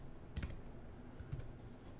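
A few quick keystrokes on a computer keyboard, two small clusters of clicks over a steady low room hum, faint and close with no voice.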